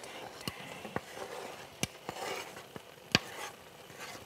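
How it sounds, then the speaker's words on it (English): A spoon stirs breakfast ingredients in a pan, with several sharp scrapes and clinks at irregular intervals over a faint, steady sizzle close by. "A bit of stirring"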